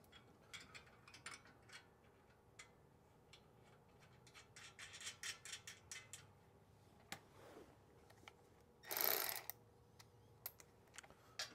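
Rapid ratcheting clicks from a ratchet tightening flange nuts on carriage bolts for a grass flap on a Wright Stander ZK 52-inch mower, quiet and close, in irregular bursts with a brief louder clatter near the end.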